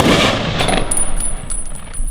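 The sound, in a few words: ceremonial rifle volley fired at Memorial Day ceremony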